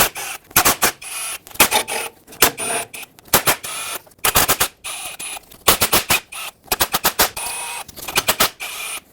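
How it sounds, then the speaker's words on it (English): Rapid ratchet clicking in short bursts, each a quick run of sharp ticks followed by a pause, from an 8mm socket on an extension backing out transmission pan bolts on a 2011-2016 Ford F-350 with a 6R140 transmission; close and loud, no talk. "For this you'll need an 8mm socket and an extension so you can reach all the hardware."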